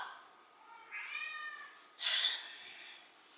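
A house cat gives two short meows indoors, fairly close but soft, with a quiet background and no talking over them.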